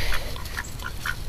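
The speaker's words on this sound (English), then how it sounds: "Be good, duck." A duck quacks several times in short, close, fairly loud bursts over a steady low rumble, with no speech.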